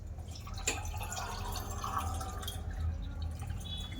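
Cold water is poured in to mix a homemade Thums Up cola drink, heard as a faint, close, continuous trickle with a few soft drips and splashes.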